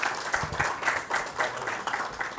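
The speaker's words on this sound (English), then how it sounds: "May I have a huge round of applause for our panelists." Applause for summit panelists at the Delhi Innovation Summit 2024, heard as a modest, fairly distant wash of clapping from an audience with a soft, pulsing rhythm.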